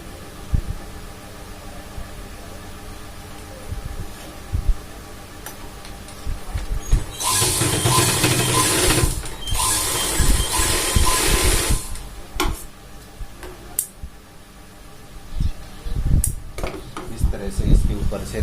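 Sewing machine stitching a diagonal seam on a shirt placket, a steady mechanical whir running for a few seconds in bursts, surrounded by quieter handling noises and fabric movement.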